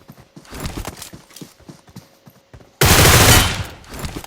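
Loud burst of rapid gunfire in a video game, a dense sustained volley of about a second that fades, following quieter scattered clip-clop hoof-like clicks.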